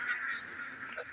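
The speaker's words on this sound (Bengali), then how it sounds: "ওদিকে হাঁস চেয়াও চেয়াও করতে আছে ক্ষুধার যন্ত্রণা তীব্রতায়" Hungry ducks quack briefly at a distance, a short faint nasal call over a soft outdoor background.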